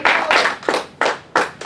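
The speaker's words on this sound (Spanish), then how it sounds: "Yo lo aplaudo" Hands clap close and loud in a slightly uneven rhythm, about five sharp claps in under two seconds, during a church service, with no voice over them.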